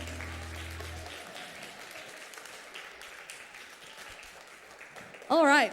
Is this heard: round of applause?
yes